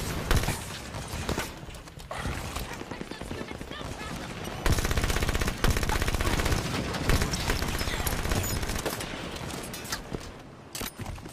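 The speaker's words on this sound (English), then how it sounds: "This shotgun." Shotgun blasts and rapid gunfire from the video game Halo 5: Guardians come as dense, repeated bursts that stay loud throughout, with a player's voice audible at times.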